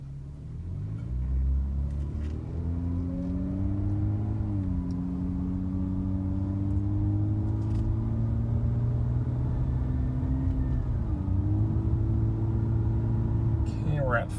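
Engine of a Honda/Acura car revving and accelerating to about 30 mph, a loud, steady drone heard from inside, with rising engine tones stepping through gear changes under road rumble.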